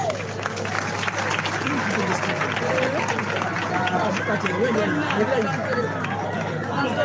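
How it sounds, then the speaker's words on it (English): Crowd applause for candidates at a parliamentary by-election debate held at party headquarters, a continuous wash of clapping mixed with crowd chatter and raised voices, plus a steady low hum underneath throughout. "Let's clap for all the candidates for KAWEMPE North. Please clap louder."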